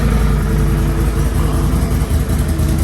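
A 2022 Can-Am XMR 570 off-road vehicle with its stock exhaust runs steadily at idle, a loud, close, continuous low engine rumble with no talk over it.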